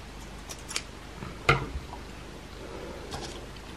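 Scissors snip yarn during a crochet project, giving a few faint clicks and one sharper cut near the middle against quiet room background.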